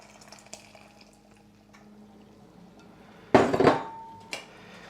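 A brief splash of hot water poured into a container, lasting under a second, followed by a light clink; quiet room otherwise.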